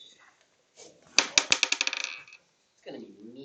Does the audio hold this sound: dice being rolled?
yes